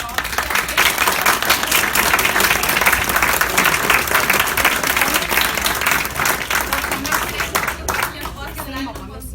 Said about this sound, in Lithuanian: Padėkokime plojimais mūsų nuostabios pašnekovės.